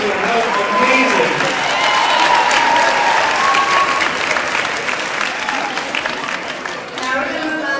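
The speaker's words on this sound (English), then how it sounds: "Let's have a big round of applause for him." An audience at a community cultural night, Fuerza Night, breaks into loud, sustained applause. Dense clapping runs the whole stretch with crowd noise and cheering voices mixed underneath, easing off only slightly near the end.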